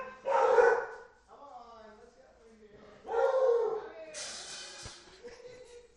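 Dogs bark and yelp in short, loud bursts separated by quieter whimpering and whining, sounding fairly close.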